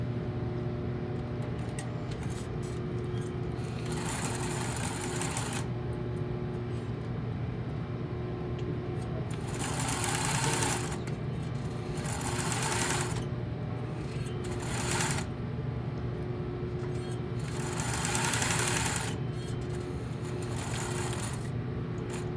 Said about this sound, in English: You're going to stitch, top stitch, from here, back stitch, all the way up to here,